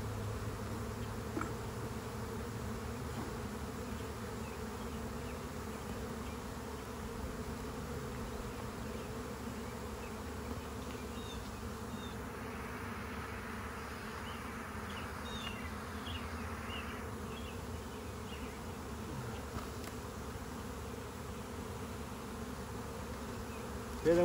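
A swarm of honeybees clustered beneath a hive's bottom board gives off a continuous, even buzzing drone, close and unbroken, with no one speaking.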